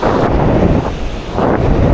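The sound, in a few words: wind and choppy surf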